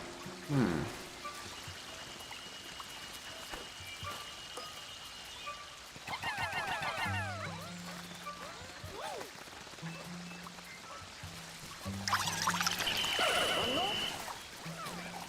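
Flowing water in the video game Pikmin 4, a soft continuous trickle under game music and chimes, with brief splashier bursts, no talk.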